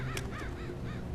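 Birds caw in the stealth video game Mark of the Ninja, three or four quick, fairly faint calls repeating in a short rhythmic burst.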